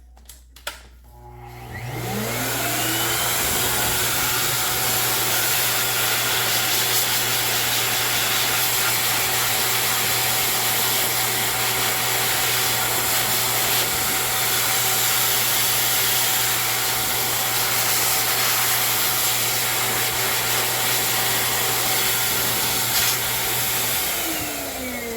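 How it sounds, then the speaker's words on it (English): A grooming dryer for a Bernese puppy starts up after a brief silence and runs steadily at a loud, constant whine with a low hum for about twenty-two seconds before cutting off near the end. "start the grooming dryer just to condition her to it"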